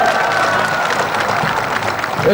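Loud, dense applause from a crowd at a gathering, a steady wash of clapping filling the whole moment without a break.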